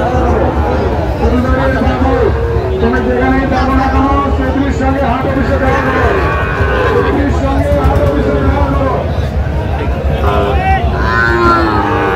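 A Sahiwal calf moos again and again at a busy cattle market, its calls rising over constant crowd chatter and voices nearby.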